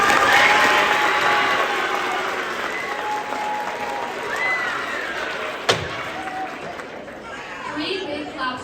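Audience applause in a school hall after a student candidate's election speech, loud at first and gradually thinning, with chatter, a sharp thump partway through and some voices near the end.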